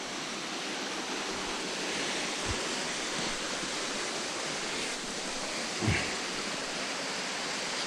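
Water rushes out through a valve on a forest hike, a steady broadband hiss and roar, constant and fairly close, with a couple of faint low thumps and no voices.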